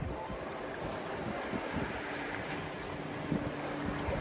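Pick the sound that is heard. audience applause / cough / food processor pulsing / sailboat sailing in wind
sailboat sailing in wind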